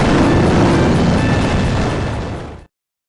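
Explosions from the MS-DOS shoot-'em-up Raptor: Call of the Shadows roar in a loud, continuous rumbling blast that fills the whole clip, then cut off abruptly near the end with no voices present.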